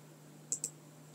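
Two quick mouse clicks a fraction of a second apart, close and crisp over a low steady hum, marking points in Tracker motion-analysis software on a computer.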